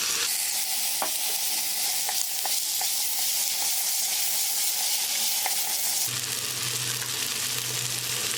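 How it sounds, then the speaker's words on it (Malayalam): Chopped tomatoes and sliced onions frying together in a pan for butter chicken, a steady close sizzle with soft stirring clicks, then the tone shifts to a lower, fuller hiss after about six seconds; no talking. "സവാള വാടി വരുമ്പോൾ ഇതിലേക്ക് നമുക്കൊരു 3 തക്കാളി ചെറുതാക്കിയിട്ട് അരിഞ്ഞത് ഇട്ട് കൊടുക്കുക"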